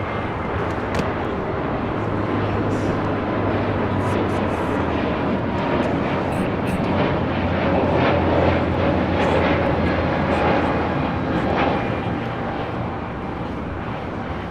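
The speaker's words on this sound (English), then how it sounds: "This is Spirit Airlines 266 taking off to Philadelphia on an A320 Neo." Spirit Airlines Airbus A320neo taking off at LAX, a steady, loud, broadband jet engine roar holding for the full stretch with a low tonal hum underneath and no talk.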